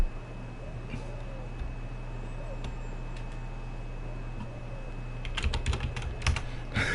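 Computer keyboard keys tapped in a quick burst of clicks near the end, over a steady background hum and faint talk during a Spider-Man game session.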